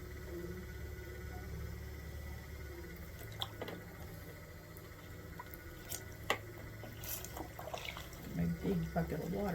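Water sloshes and drips in a big bucket beside a running pottery wheel while black stoneware clay is thrown: wet squishing and a few brief close splashes over a steady motor hum, with a voice briefly at the end.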